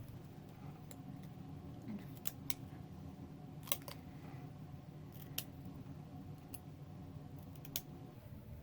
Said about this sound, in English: let's cut the end off of that